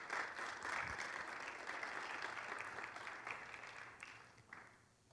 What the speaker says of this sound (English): Give Steve a round of applause,